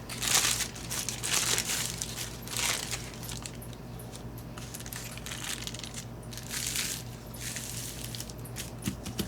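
Wax paper is crumpled up by hand, a near, bursty crinkling and crackling that swells and fades in several waves, with no talking.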